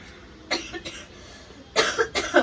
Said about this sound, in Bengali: প্রচন্ড কাশি হয়েছে আমার